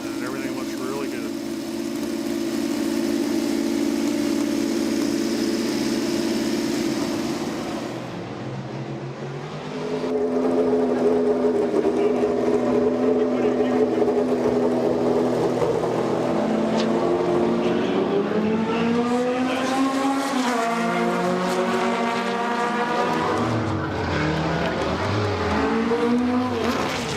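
A 1980 McLaren M29 race car engine running, a loud steady idle that drops away briefly, then returns with rising and falling revs while voices talk over it.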